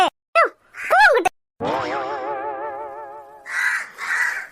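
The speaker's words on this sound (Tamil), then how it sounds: "இந்த காக்கா வேற இப்ப டிஸ்டர்ப் பண்ணிட்டே இருக்கே" Crow cawing close and loud in several harsh, rising-and-falling calls with short gaps, followed by a long wavering groan-like cry and two breathy bursts.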